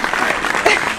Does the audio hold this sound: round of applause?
yes